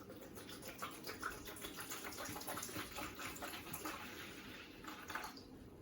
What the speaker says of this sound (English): So I'm going to add my water to the pot.